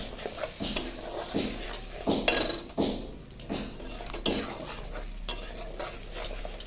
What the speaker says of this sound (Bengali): মশলাটা ভালো করে আমি কষাবো।